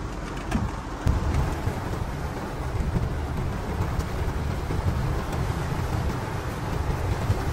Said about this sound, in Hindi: आप लोग बारिश देखें किस तरह और कितनी ज़्यादा बारिश हो रही है